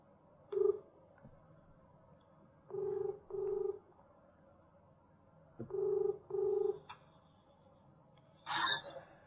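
A handset's tone keys beep in four short pairs, two at a time with pauses, over faint background hum, followed by a brief higher chirp.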